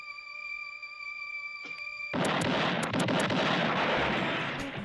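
Colt repeating revolver gunshots ring out as a rapid cluster of sharp blasts after a high electronic tone cuts off, loud and close.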